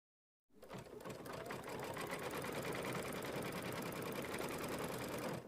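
An embroidery-style sewing machine stitching a heart placement line on a mini quilt starts abruptly and runs in a fast, steady, close mechanical whir of rapid needle strokes.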